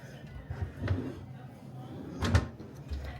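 Drawers in a resort room at Universal's Terra Luna slide and knock shut, two clear bumps about a second and a half apart, close and moderately loud, with no one talking over them.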